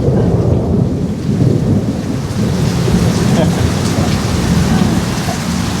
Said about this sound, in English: besides the thunder being really loud